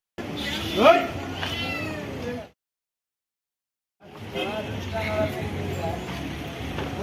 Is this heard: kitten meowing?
yes